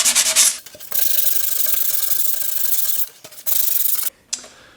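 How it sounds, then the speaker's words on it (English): Hand sanding on a wooden subwoofer enclosure panel comes in long, close, rasping strokes broken by short pauses, smoothing off the little humps left by drilling, with no talking. "What we're going to want to do is sand down the back sides."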